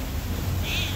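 A single short cat meow from a hungry cat on Ko Lan Island, Thailand, close and clear, over a low steady background hum.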